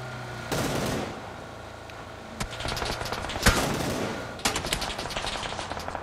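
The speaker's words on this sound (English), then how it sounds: "They're good shots, Latino." PUBG video game gunfire arrives in rapid automatic bursts with loud single cracks mixed in, dense and sharp against a steady game background, with no talking.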